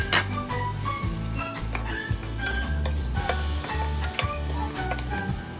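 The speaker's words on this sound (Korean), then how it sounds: "슬라이스한 양파 반 개와 다진 마늘 한 큰술을 오일에 볶아주세요" Sliced onion and minced garlic sautéing in a hot pan with extra virgin olive oil and butter, a steady sizzle running throughout with frequent ticking clinks of a utensil against the pan.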